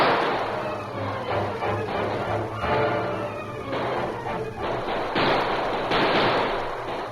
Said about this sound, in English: The Lone Ranger and Tonto emptied their guns